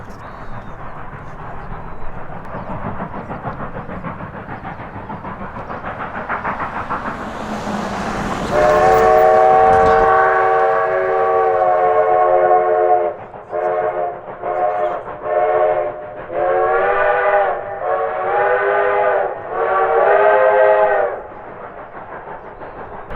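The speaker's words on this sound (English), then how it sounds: "we were lucky enough to come across the Cumbres and Toltec Scenic Railroad as" On the Cumbres and Toltec Scenic Railroad, a steam train climbing Cumbres Pass rumbles steadily, then sounds its whistle: one long loud blast followed by a run of shorter toots, close and dominant over the train noise.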